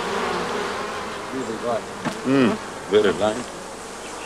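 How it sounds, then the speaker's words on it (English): African bees in Zimbabwe hum and buzz close by, wavering drones rising and falling under a brief spoken remark. "African bees are very lovely to work with."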